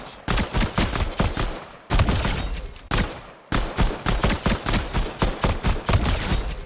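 Rapid gunshots from a close-range weapon in a looter shooter video game, fired in three loud bursts of quick repeated shots separated by brief pauses.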